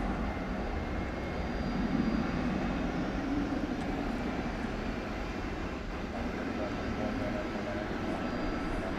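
A fixed-wing airplane at DFW Airport gives off a broad, continuous jet roar at night, steady and fairly distant, filling the whole stretch without clear rise or fall.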